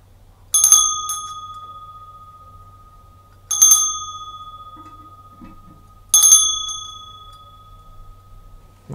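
An old bell found in the Bengawan Solo river rings three times at even intervals, each a bright metallic strike with a long clear tone fading slowly into near silence, close and alone.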